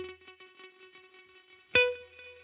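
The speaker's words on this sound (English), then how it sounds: "It's like a multi-tap delay." A guitar note runs through a Walrus Audio Mako R1 reverb pedal with diffusion turned down, giving a multi-tap delay: faint, evenly spaced echo repeats trail the tone before a sharp new pluck rings out clearly.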